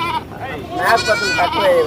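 Goats bleat at a busy livestock market in Gudur, several wavering calls rising close by over steady crowd chatter and talking voices.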